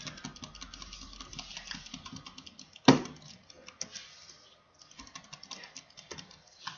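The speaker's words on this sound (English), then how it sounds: "my mouse is like really loud, so if you hear it clicking, that's just my mouse" A computer mouse clicks throughout Minecraft Super Smash Mobs play, a quiet run of rapid, irregular taps with one sharper, louder click near the middle.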